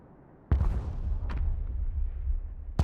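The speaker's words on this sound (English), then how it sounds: "Short barrage. 1, 2, it should be 3 shots." Artillery shots fire in the video game Broken Arrow: two loud booms, the first at about half a second and the second near the end, with a faint thump between them over a low rumbling background.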